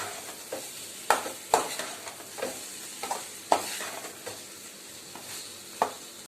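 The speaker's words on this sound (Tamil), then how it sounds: "போட்டுட்டு லைட்டாக டாஸ் பண்ணுங்கள், ரொம்ப அழுத்தி போக்காதீங்க, இல்லை காய் உடஞ்சிடும்." Kadai vegetables being tossed lightly in a pan, a soft continuous sizzle broken by regular scraping and clattering stirs at close range.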